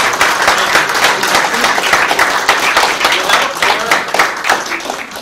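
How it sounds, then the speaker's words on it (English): Audience applause at an Amiga computer show awards ceremony, a dense, continuous patter of many hands clapping at steady loudness throughout, with no speech over it. "So if we could give them a round of applause."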